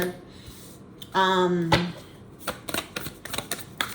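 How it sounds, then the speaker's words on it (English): A deck of cards being shuffled at close range: a quick riffle followed by a run of soft, rapid card flicks and taps, with no one speaking. "I'm shuffling them again"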